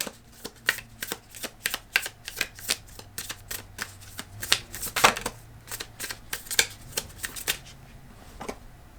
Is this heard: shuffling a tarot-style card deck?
yes